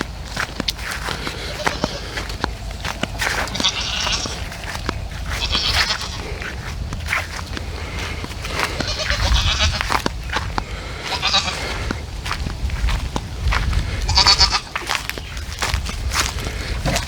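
Goats bleating on a farm, one of them stuck, heard in scattered calls amid footsteps and rustling as someone walks closer, with occasional talk nearby.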